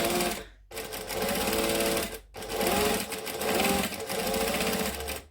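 A sewing machine stitching fabric for a quilt-style project, running in fast, steady bursts close to the listener, with two brief pauses between runs.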